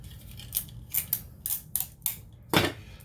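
Tape is pulled and cut while building a straw car, with a run of short crisp snips and tearing sounds in an uneven rhythm, ending in one longer, louder rip.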